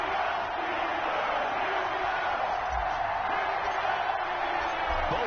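A stadium crowd roars steadily in an EA Sports NFL video game before the Indianapolis Colts face the Pittsburgh Steelers, a dense, constant wash of cheering with no clear breaks.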